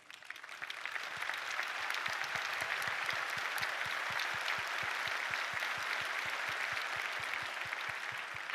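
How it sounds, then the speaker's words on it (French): Audience at a company celebration and startup trophy event applauds to test an applause meter, clapping swelling in over the first second into a steady, fairly distant wash with a regular rhythmic beat underneath. "C'est vous qui allez applaudir."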